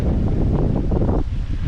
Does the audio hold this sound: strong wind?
yes